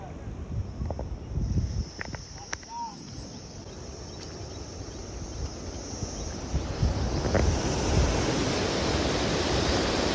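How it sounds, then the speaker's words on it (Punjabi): Water rushes steadily through a canal in Himachal Pradesh as a broad, continuous roar that grows louder toward the end, with brief voices and handling sounds early on. "ਪਾਣੀ ਦਾ ਵਹਾਅ ਦੇਖੋ ਤੁਸੀਂ ਨਾਲੀ ਦਾ"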